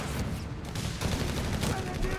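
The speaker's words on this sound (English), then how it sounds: "Mortar firing down" Mortar fire in the World War II strategy game Company of Heroes 3, a dense burst of overlapping shots and booms in quick succession, loud and close throughout.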